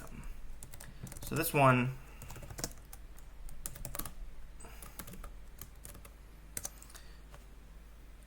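Quick bursts of keystrokes on a computer keyboard click in short clusters, fairly quiet and close, with someone speaking briefly over them.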